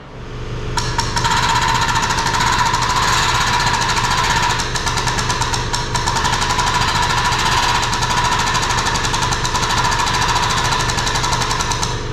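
1320 Fabrication pro jacks raise a car, a loud continuous mechanical buzzing drone from the pump running steadily and close, with a rapid pulsing texture and no pauses.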